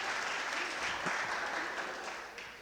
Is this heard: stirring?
no